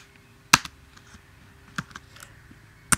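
A few isolated keystrokes on a computer keyboard, sharp close clicks spaced irregularly in a quiet room.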